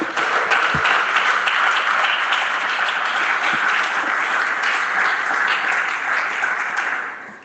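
A church congregation applauding together, sustained dense clapping from many hands at a steady level for several seconds before tapering off at the end.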